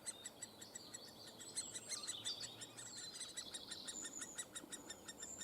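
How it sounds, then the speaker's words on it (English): A great spotted woodpecker chick calls from a nest hole in an old larch tree, giving rapid, repeated high chirps in a steady run, faint and somewhat distant, alone without talk. "There's a woodpecker baby in this little hole there."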